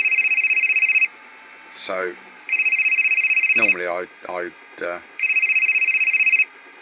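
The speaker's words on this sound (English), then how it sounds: "That's a phone call coming in, but I'm not going to take it." An incoming call rings on a phone, sounding three long, loud electronic rings with pauses between them, while someone talks in the gaps.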